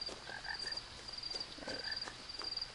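Game-world frogs trade quick croaks and ribbits in two small bursts, fairly quiet and mid-distance, set against a constant low hum and a faint high-pitched drone with no speech.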